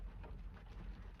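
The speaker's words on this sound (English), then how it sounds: "I don't know if you guys can hear the rain in the background." Steady rain falls outside, a faint continuous hiss and patter with a low rumbling undertone and no voices present.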